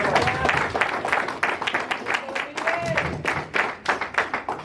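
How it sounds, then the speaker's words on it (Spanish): A church audience applauds during a sermon, a burst of clapping hands with distinct sharp claps and some cheering, heard loud and close as voices call out over it. "Quiero que le den un aplauso a Cristo"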